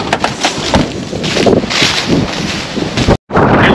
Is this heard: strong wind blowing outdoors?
yes